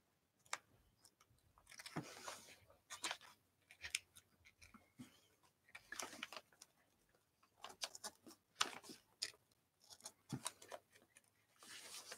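Scissors snip a piece out of material in a series of quiet, crisp cuts, irregular bursts of sharp clicks with short pauses between, close and faint.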